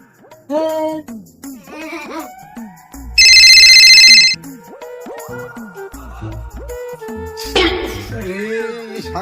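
A mobile phone ringtone plays a loud electronic tone for about a second, surrounded by animated, expressive voices talking before and after it.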